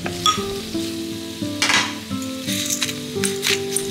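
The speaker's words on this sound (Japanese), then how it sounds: "香りが立ってきたらむきエビを加えて中火で炒めていきます。" Peeled shrimp stir-frying with garlic and ginger in hot oil in a deep frying pan, a steady close sizzle broken by scraping, stirring strokes and light clinks of a utensil against the pan.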